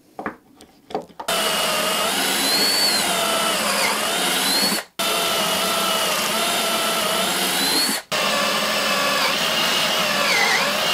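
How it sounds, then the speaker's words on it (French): A power drill bores holes into wood for a joinery assembly, the workpiece held with a clamp: a loud, sustained whining drone with shifting pitch that cuts out briefly twice before resuming. "Voilà nos perçages maintenant réalisés."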